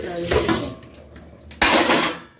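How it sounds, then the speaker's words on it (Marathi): A big pile of dishes is washed in a home kitchen after dinner, with two loud bursts of clattering pots and rushing water separated by a quieter pause. "चला मी भांडी घासते, खूप भांडी आहेत."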